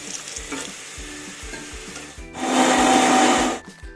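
A mixer grinder coarsely grinds ridge gourd chutney with salt and a little water. Soft knocks lead into a loud, short burst of whirring that lasts about a second, then stops abruptly.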